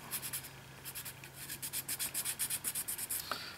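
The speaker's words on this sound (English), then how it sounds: "Now what I'm doing is just sanding the edge a little bit." Rapid back-and-forth sanding strokes rasp against the edge of a model wheel tire in a steady rhythm, close and moderately quiet, ending with a short scrape.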